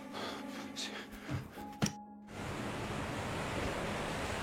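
High ocean waves break and surge at a beach, a loud, broad roar of surf with a brief dip and a sharp splash before the wash swells back to a steady, close rush.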